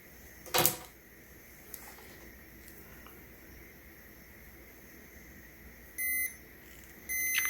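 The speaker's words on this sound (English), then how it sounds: "when you touch this 2 point, left and right, it's gonna beep" A continuity tester beeps on a good thermal fuse from an air fryer oven, giving two short electronic tones near the end, after a sharp click and some small handling noises.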